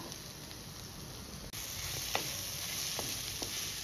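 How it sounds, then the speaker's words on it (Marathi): Vegetables stir-fried in a pan with coriander for masala rice, a steady close sizzle with a few sharp spatula scrapes and clicks, no talking. "आता ही भाजी आपली अशी परतवून झाली आहे सगळी"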